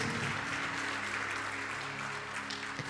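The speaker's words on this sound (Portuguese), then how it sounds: "Aplauda ao Senhor." A church congregation applauds in praise, a steady wash of clapping under a low held organ or keyboard tone, moderately loud and continuous throughout.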